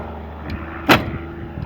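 A single solid thunk as the door of a 1985 Buick Grand National swings shut, one brief close impact over faint background hum.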